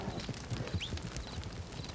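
Steady clip-clop of horse hooves in the video game RedM, a rapid run of close, even thumps with a faint high whistle-like sound partway through.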